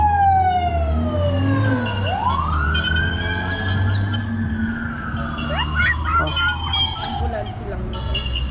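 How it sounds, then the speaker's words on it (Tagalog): An ambulance siren wails loudly as the vehicle passes, its rising and falling tone sweeping across several seconds over a steady background rumble. "Ambulansya lang"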